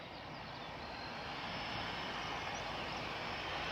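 A small Loganair propeller airplane at Glasgow Airport drones steadily, a faint, distant broadband engine hum holding even throughout with no talk over it.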